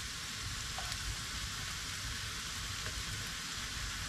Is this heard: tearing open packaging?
no